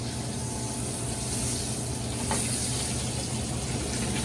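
Butter and rosemary sizzle steadily in a hot pan, giving a continuous crackling hiss at moderate loudness with no voices over it.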